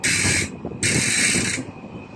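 Freehub ratchet of a carbon bicycle wheelset buzzing in two rapid bursts of dense clicking, loud and close, with a short pause between them.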